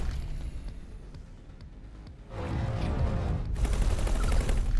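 Rapid gunfire from a defence turret in the space game X4: Timelines, a dense crackling barrage that grows louder and fuller halfway through and keeps going to the end, with no talk over it.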